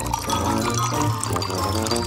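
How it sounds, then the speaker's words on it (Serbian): Hot chocolate is poured into a glass, producing a steady, close liquid pour with light gurgling and trickling that runs continuously and fairly loud. "Sipat ću toplu čokoladu."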